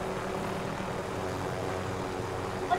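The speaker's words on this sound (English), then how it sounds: "Look, a helicopter!" A helicopter in the Call of Duty video game gives off a steady mechanical engine drone that holds at an even, moderately loud level throughout, with no talking.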